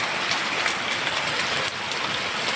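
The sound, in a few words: rain falling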